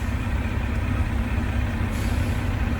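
A semi truck and trailer rolls slowly during a service brake test, a steady low diesel rumble with air brake hiss, close and constant throughout.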